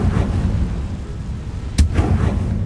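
A fire-spell blast cast in the Hogwarts Legacy video game lands as one sharp, loud bang mid-clip over a steady rumbling game background, with no voices.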